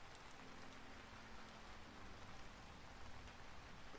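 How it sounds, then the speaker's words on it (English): Steady rain patters on leaves in the block-building survival game Vintage Story, a dense, even hiss that continues without a break, with a faint low hum running beneath it. "Rain falling on the leaves."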